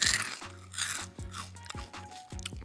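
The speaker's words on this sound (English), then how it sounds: "and like listen to the crunch." Small cheese-ball-like healthy snack puffs crunch between the teeth in close, repeated bites, a handful of crisp crunches spaced about half a second apart with brief pauses between them.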